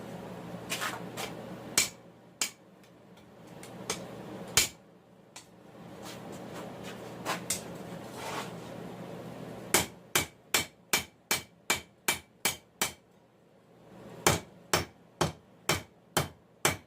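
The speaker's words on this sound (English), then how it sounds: "take the piece and extend it over the anvil and hit to where it's drawing it out that way" A hammer forging a farrier rasp knife on an anvil, drawing the steel out with sharp ringing metallic blows, some scattered and then a rapid run of regular strikes, close and loud with no talk.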